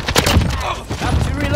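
A sentry gun firing in a video game, a rapid burst of gunfire shots close and loud, mixed with other game noise and a voice talking over it.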